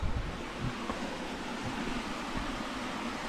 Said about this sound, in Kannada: ಅದು ಆ ನೀರಿನ ರಭಸ ಆ ಥರ ಕೇಳಿಸುತ್ತೆ.